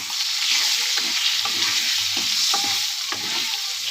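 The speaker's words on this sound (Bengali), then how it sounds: "ভালো করে আমি ভেজে নেব।" Spices fried in a pan with turmeric and salt: a loud, dense sizzle runs throughout, with a spatula stirring in soft rhythmic scrapes about twice a second, close up and with no voices.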